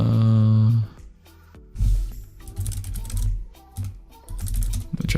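Quick bursts of keystrokes clatter on a computer keyboard as a Linux hostname command is entered, loud and close, mixed with a brief tonal hum at the start and bits of background sound between the bursts.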